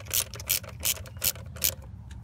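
A ratchet with a 13 mm socket tightens the starter bolt on a 2008 BMW 535i. It gives five quick, crisp clicking bursts in an even rhythm, close by and with no talking.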